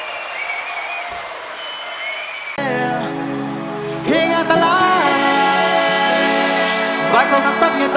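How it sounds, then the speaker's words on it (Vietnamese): Crowd applause and cheering at a live pop concert stage show, loud and sustained throughout, with music swelling in underneath partway through. "Một tràng pháo tay"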